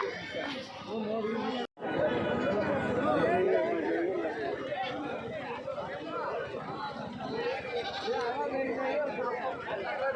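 Goats, including big billy goats and kids, bleat at a busy weekly livestock market while a crowd of people chatter and bargain all around, the bleats rising repeatedly through the hubbub.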